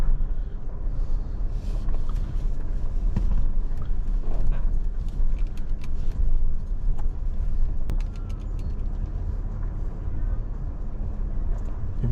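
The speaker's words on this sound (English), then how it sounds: "I just dropped my truck into 4 low. I don't want to use the brakes as much as possible. I just want to creep down this hill." A pickup truck in four-low crawls down a steep hill, its engine a steady low drone with light rattles and scattered clicks throughout.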